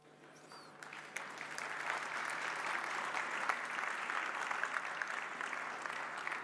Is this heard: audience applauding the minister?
yes